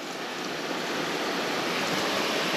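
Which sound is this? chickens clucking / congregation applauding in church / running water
running water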